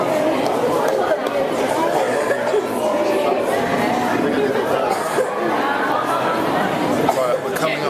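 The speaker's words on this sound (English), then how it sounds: "There's a big crowd of people, as you can see in front" Crowd of people chattering inside the Natural History Museum, a dense, steady hubbub of many overlapping voices and footsteps filling a large indoor hall, with occasional chuckles.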